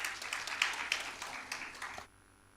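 An audience at an international economic growth conference in Nepal claps to welcome a presenter to the stage, a spread of individual claps that thins out and stops abruptly near the end, leaving near silence.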